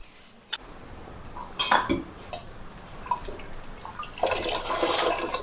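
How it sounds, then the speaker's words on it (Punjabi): Dishes being washed by hand: scattered clatter of utensils and pots with running, splashing water, close by and irregular, no talking. "ਭਾਂਡੇ ਹੀ ਧੋਣ ਭਾਂਡੇ ਸਾਫ ਕਰਨ ਦੀ"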